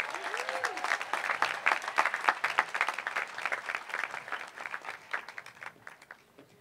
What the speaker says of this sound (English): How about a round of applause for Ms.